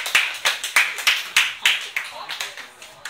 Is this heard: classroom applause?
yes